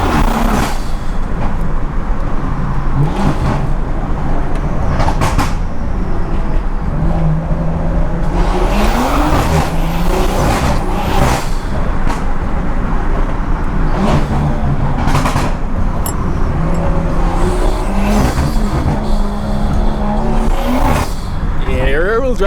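600hp BMW 340i sliding, its engine revving in repeated rising sweeps with bursts of tire squeal, loud and close, while a person talks over it.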